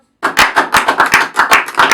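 Hands clapping together in a quick, even rhythm at a birthday celebration, about nine close, crisp bursts in two seconds after a brief silence.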